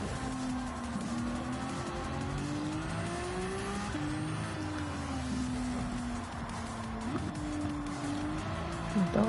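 Race car engine in a driving video game at Spa, lapping during a license test, with a sustained droning whine whose pitch rises and dips through gear changes and corners, fairly quiet and steady throughout.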